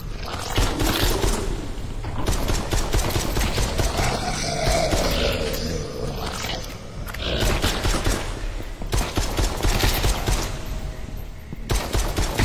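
Arcade shooter video game gunfire, with rapid bursts of machine-gun fire and volleys of shots crackling in clusters, fairly loud and dense with brief pauses between bursts.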